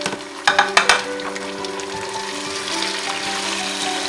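Pre-cooked goat mutton being added to frying onions in a pot for karela gosht: a few sharp clanks and thumps at the start, then a steady sizzle with stirring, close and fairly loud, with no voices.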